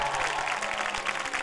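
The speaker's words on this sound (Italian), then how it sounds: "facciamo un applauso ad Amadou." Audience applause for a contestant called to centre stage on a coaching talent show podium, a steady wash of clapping, fairly faint and continuous throughout.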